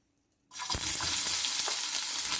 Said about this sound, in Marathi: तेल गरम झालं की कांदा ॲड करूया आणि कांदा छान असा आपल्याला लालसर भाजून घ्यायचा आहे